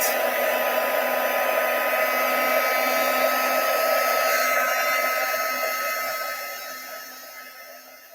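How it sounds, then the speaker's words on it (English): An embossing heat tool melts embossing powder on a stamped card, giving a steady, close airy whoosh like a small hair dryer that runs throughout and fades toward the end. "that's my embossing powder added, and now I can heat."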